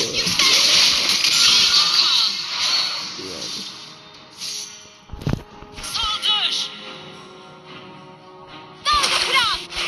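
Water waves splashing and sloshing in continuous bursts, with a sharp slap around the middle and voices talking over much of it.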